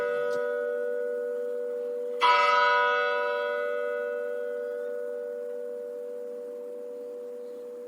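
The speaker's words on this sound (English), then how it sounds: "So it always started with 2 strikes of the bell, because it's 11:30" A single resonant church bell strike rings out over a steady humming tone and slowly fades, heard from some distance.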